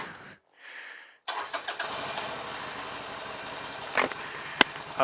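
A Harley-Davidson Nightster 1200 with a rattling fault turns over after a brief whir and a pause, catches with a loud burst, then settles into a steady close idle with a few sharp clicks and knocks.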